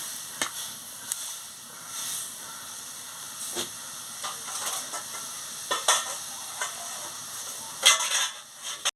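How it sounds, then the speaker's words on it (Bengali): Spiced drumstick stalk curry stirred in a pan after water goes in: a soft simmering hiss broken by irregular scrapes and knocks of a spoon against the pot, close and fairly quiet, no talking. "আমি পরিমাণ মতন জলটা দিয়ে দিচ্ছি দিয়ে ভালো করে একটু নাড়িয়ে নিচ্ছি"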